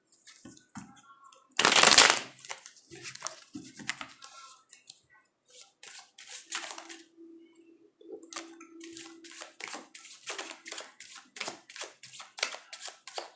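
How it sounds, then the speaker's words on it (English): A deck of cards is riffled in a loud burst, followed by a series of soft taps and flicks as cards are handled and laid down, with no talking. "one more shuffle"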